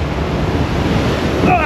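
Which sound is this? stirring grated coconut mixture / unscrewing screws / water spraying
water spraying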